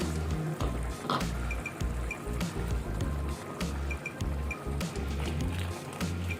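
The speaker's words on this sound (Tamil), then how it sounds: "கொஞ்சமாக நம்ம அந்த ஜார் மட்டும் கொஞ்சமாக அலசி ஊற்றிக்கிறேன்" Rinse water from a mixer jar is poured into simmering coconut gravy, giving close splashing, dripping and liquid sounds that run steadily for several seconds.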